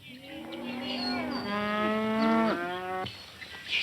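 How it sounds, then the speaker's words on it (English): Cattle mooing in a Western-style outdoor scene, a single drawn-out low moo that rises and then falls, fairly close and clear over faint background noise. "If those cattle stampede, we're in a bad way."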